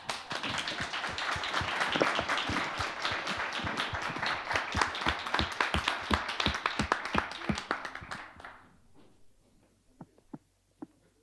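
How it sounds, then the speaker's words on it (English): An audience at a start-up pitch conference in Cyprus applauds an award winner, dense loud clapping for about eight seconds that then thins out to a few scattered claps. "Another round of applause, ladies and gentlemen."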